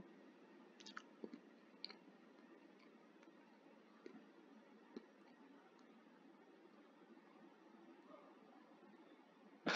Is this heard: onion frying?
no